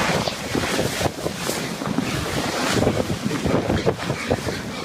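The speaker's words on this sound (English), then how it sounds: "This is a recording of the actual earthquake and avalanche hitting base camp." Roaring, gusty wind noise batters the microphone at Everest base camp as an earthquake-triggered avalanche hits, a dense broadband rush with irregular surges and no clear voices.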